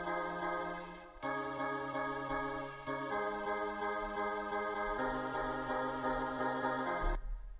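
A Serum synth preset for progressive house drop chords plays rich, sustained chords that shift every couple of seconds over several bars, full and continuous, then cuts off abruptly.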